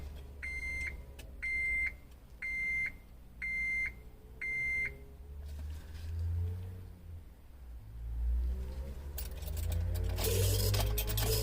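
A 2003 Honda Element 2.4L AWD with a no-VTEC P2646 fault idles under five evenly spaced electronic beeps, then its engine rumble swells as it revs up near the end.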